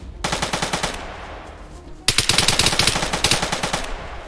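Rapid automatic gunfire in the video game DayZ, two loud close bursts of evenly spaced shots, the second longer and heavier, with no talking over them.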